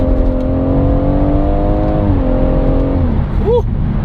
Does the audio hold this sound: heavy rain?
no